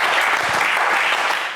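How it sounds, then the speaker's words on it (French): Brief, loud burst of studio audience applause on a French TV game show, a dense clatter of many hands lasting under two seconds with no speech over it. "Allez, on applaudit Joël."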